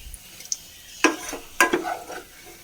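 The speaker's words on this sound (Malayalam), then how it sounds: "നമ്മുടെ അടുത്ത ബാച്ച് സോയ ഫ്രൈ ആയിട്ടുണ്ട്" Soya chunks fry in oil in a small pan for chilli soya, with a soft sizzle under two sharp stirring scrapes and clinks of a utensil against the pan.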